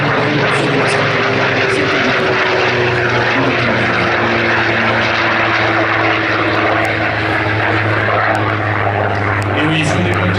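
Loud, steady drone of a Spitfire Mk XIV propeller aircraft engine running continuously, close and unbroken throughout.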